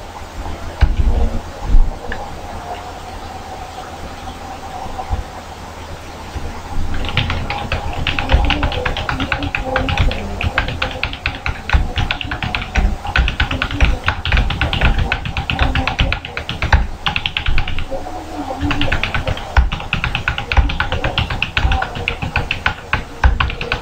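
Steady computer keyboard typing while text is entered into a PowerPoint slide, near and continuous rapid key clicks starting quietly then growing busier after several seconds, no voices.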